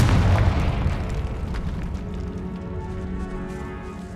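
A Confringo fire-blast spell goes off in Hogwarts Legacy with a loud, booming explosion that starts at full strength and then fades into a long, rumbling tail.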